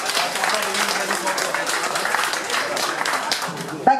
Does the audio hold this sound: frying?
no